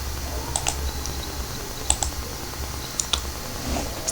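Typing on a computer keyboard while filling a table in a word processing document, a few quick clusters of light key clicks spaced out over a faint steady hum, close and fairly quiet, with no speech.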